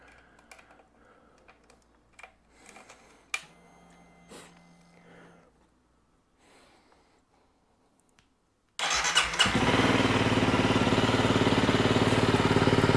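A Honda CRF300L motorcycle fitted with a MotoX aftermarket exhaust starts up after quiet fiddling and clicks, then settles into a loud, steady idle that holds close and constant.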